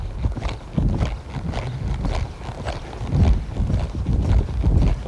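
A horse loping in a riding session, with a run of muffled hoof thuds in an uneven three-beat rhythm, fairly close and steady, with light wind noise and no talk.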